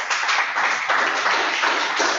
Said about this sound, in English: Let's give him a better clap.